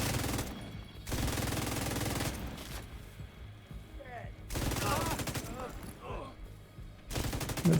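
Light machine guns fire in a video game in long, dense automatic bursts that cut in and out several times, loud and close, with talk heard during the pauses between them.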